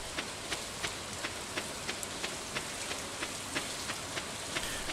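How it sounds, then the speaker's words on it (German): Steady rain falls in the farming video game Stardew Valley, an even hiss of rainfall with light, regularly spaced droplet ticks running throughout, heard alone without any voices. "Ich mag es, wenn es regnet."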